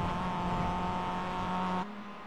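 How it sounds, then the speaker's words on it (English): A Mazda MX-5 race car in the iRacing sim holds a steady, high-revving engine drone with strong tonal harmonics, loud and close, before cutting abruptly to a quieter hum near the end. "we listen to the brilliant sound of that Mazda MX-5"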